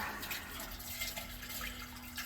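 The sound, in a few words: water flowing through drain pipe during leak test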